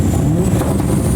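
Engine of a clean white Toyota Chaser drift car at a JDM show, a steady loud mid-pitched drone holding throughout with a rumbling low end, close by and without talk.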